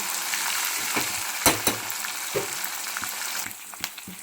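Curry leaves spluttering and crackling in hot oil for pulihora, a steady close sizzle with sharp popping bursts scattered throughout, no voices.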